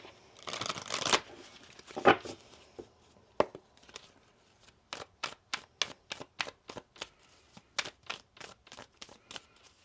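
Tarot cards shuffled by hand, starting with a few dense riffle bursts and then settling into a steady run of crisp, evenly spaced card slaps and taps, close up, with no talking.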